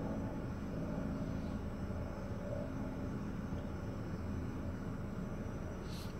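Quadcopter drone motors hover in the wind with a faint, steady, even drone that holds without change throughout.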